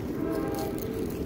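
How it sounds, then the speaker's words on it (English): A steady low rumble and rattling drone of a train rolling by near a Southern California beach, continuous and fairly close, with no voices. "Sounds like a train."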